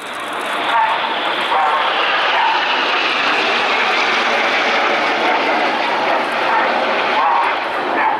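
Red Arrows display team jets passing overhead at RIAT 2016, a loud, broad roaring rush that swells and holds steadily, with a voice talking over it.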